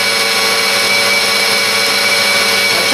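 An electric mixer whips egg whites with sugar toward stiff peaks for an angel food cake, a loud, steady, unbroken motor whir with no pauses.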